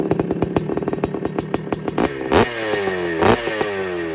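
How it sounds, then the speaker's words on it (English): A 1981 Yamaha YZ250 air-cooled two-stroke motocross bike at Glen Helen revs up close and loud, its engine rising in repeated sharp blips and settling between bursts, with two stronger revs near the end. "this is a 1981 YZ250, last year of the air-cooled drum brake"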